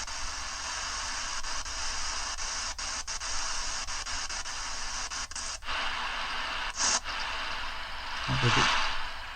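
A true pocket-size Nontaus world-band shortwave, FM and AM receiver tuned on AM gives a steady hiss of static with crackles, clicks and brief bursts of interference, close and fairly loud.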